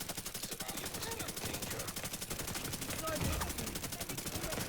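Rapid automatic hip-fire gunshots from a gun in the video game The Division 2, a dense continuous burst of shots firing throughout at close range.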